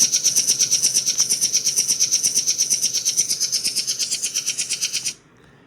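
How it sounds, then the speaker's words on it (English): A rapid, rhythmic rattling effect with steady bright pulses, about a dozen per second, running continuously for five seconds before cutting off abruptly. "this is what the shuffling effect sounds like"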